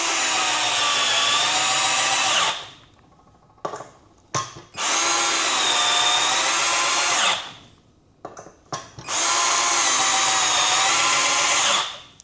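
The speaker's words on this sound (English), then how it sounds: "I'm going to run them all down and then come right back and run them all up." A cheap Harbor Freight cordless drill drives screws into wood in three long, loud whirring bursts, each winding down, with brief clicks and handling noises in the quiet gaps between.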